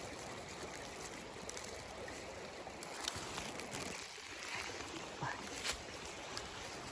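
A river flowing through an autumn forest in Bukovina, a steady broadband rush of water with faint trickling detail, close and continuous.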